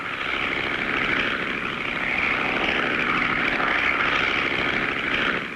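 A cartoon propeller airplane drones steadily and loudly as it flies a pass, its engine hum holding even with a slight rise and fall and no talking.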